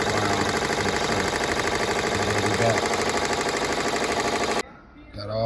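Embroidery machine sewing tack-down stitches on a chenille appliqué for a letterman jacket, a fast, steady mechanical rattle of needle strokes, close and loud, that cuts off abruptly near the end.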